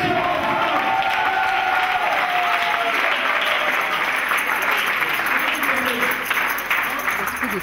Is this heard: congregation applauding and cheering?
yes